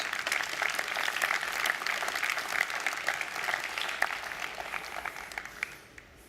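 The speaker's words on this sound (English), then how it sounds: "give a round of applause to our wonderful speakers" Steady audience applause for the speakers at the closing of a fintech conference session, a full room clapping continuously before tapering off at the end.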